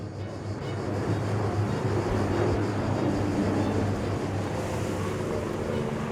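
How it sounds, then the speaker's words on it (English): Firefighting aircraft flying low over hills during a coastal forest fire, giving a steady, loud engine drone with a low hum throughout and no voices. "Pierre and Jean-Marc must fly low over the hills to be more precise."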